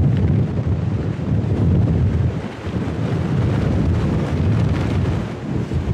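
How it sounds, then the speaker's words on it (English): Strong wind blows hard outdoors during a stormy day, a loud, steady roaring gust buffeting the microphone throughout with brief dips, no voices present. "So as you can see, it's very windy today."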